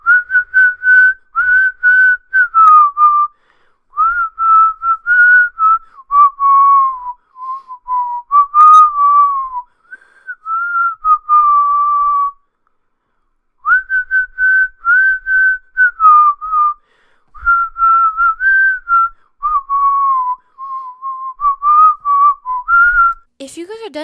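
People whistle a song, a clear, close, loud melodic tune in phrases broken by short pauses, running for the whole stretch with a brief gap midway.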